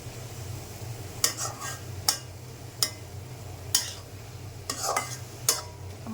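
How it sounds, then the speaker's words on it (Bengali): Leafy greens frying in a pan and stirred with a spatula, a soft sizzle beneath sharp, close scrapes and taps that come every second or so, with no talking. "আমার শাক ভাজা হয়ে গেছে"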